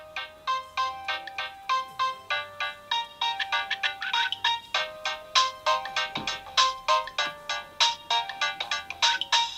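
A bright, chiming electronic mobile phone ringtone melody from a video game plays alone, a rapid repeating pattern of synthetic tones that stays loud and steady throughout.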